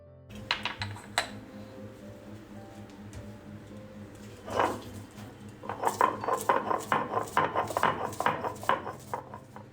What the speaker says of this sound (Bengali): তারপর সব কিছু একসঙ্গে বেটে নেব